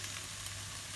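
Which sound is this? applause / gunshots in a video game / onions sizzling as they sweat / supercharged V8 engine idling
onions sizzling as they sweat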